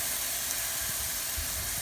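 Marinated chicken for a quesadilla sizzling in a hot pan, a dense, loud, steady hiss and crackle close up with occasional soft pops, no talking.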